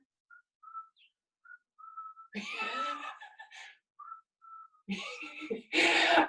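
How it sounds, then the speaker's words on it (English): Short, thin whistled notes come and go in brief bursts during a teen yoga class, broken up by louder breathy, laughing and scream-like vocal sounds. "We're supposed to whistle."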